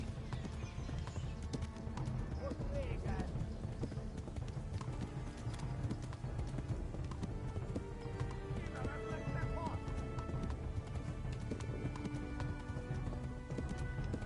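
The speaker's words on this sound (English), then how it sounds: "Run, horsey, run." A horse gallops in Kingdom Come: Deliverance, a 15th-century RPG, its rapid loud hoofbeats driving steadily beneath a whinny and some low rumble, with voices speaking over it.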